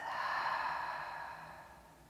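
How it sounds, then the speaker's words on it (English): A long, soft breath out through the mouth during a beginner yoga session, a close, airy exhale that gradually fades. "Inhale through your nose. And exhale through your mouth."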